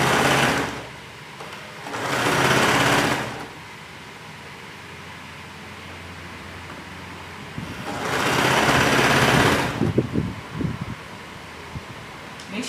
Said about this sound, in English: I will take to the sewing machine and sew right from the sleeve down to the end of the